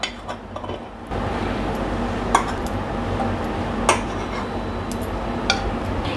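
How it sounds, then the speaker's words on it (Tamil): Steamed momos being placed onto a plate in a home kitchen, a few sharp clinks of utensil against dish spaced seconds apart over a low background hum. "இந்த மோமோஸ் ஒவ்வொன்றும் எடுத்து தட்டில் வச்சுக்கலாம்."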